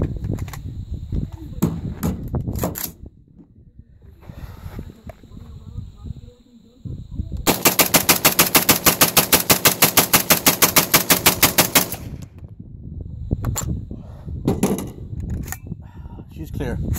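A PSA KS47 rifle shooting steel-case ammunition fires a fast, steady string of loud, close shots lasting several seconds, with talk and handling noise before and after.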